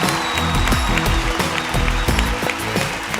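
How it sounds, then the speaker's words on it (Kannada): Applause for Mallika at a television comedy show's grand finale, a crowd clapping with bursts of cheering over a thumping music beat. "ನಮ್ಮ ಮಲ್ಲಿಕಾಗೆ ಒಂದು ದೊಡ್ಡ ಚಪ್ಪಾಳೆ ಬರಲೇಬೇಕು"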